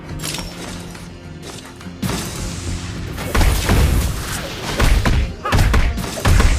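In the Mobile Legends video game, a turret is destroyed amid a burst of heavy thuds, booms and crashing impacts. The sounds start quieter, then grow dense and loud over the final seconds.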